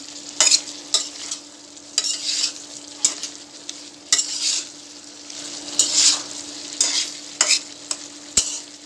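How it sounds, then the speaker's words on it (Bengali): Chopped eggplant frying in a little oil in a pan, with a steady sizzle broken by repeated scraping stirs of the spoon at an uneven rhythm, close and moderately loud, no voices. "হালকা একটু তেল দিয়ে ভেজে নিচ্ছি"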